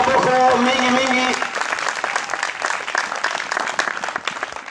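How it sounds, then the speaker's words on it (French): A church congregation applauding and cheering loudly, a thick sustained roar of clapping and shouts that follows a preacher's voice and gradually thins toward the end. "Alors acclame très très fort si tu y crois"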